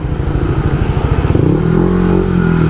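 A motorcycle engine idles with a rough, pulsing putter, then rises into a steady, louder drone as the bike is brought into a tire shop in Las Piñas, close and with no talk.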